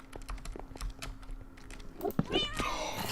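Wither cat in a Minecraft modpack game, a short rising meow near the end over soft keyboard clicks and small game noises.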